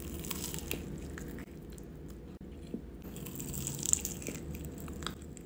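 Crunching of crispy delivered fried food, a spicy item from K-Box, in repeated close bites and chews over a faint room background, no talk.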